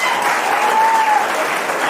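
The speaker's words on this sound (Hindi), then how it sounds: "जल्दी करो, ताली बजाओ।" An audience at a motivational speech event claps, a short, loud burst of dense applause that holds steady throughout.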